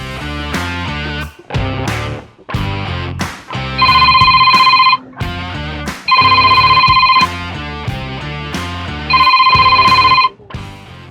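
Outgoing call ringback on a phone: a repeating ring tone in three long bursts over background music, loud and close, with no talk.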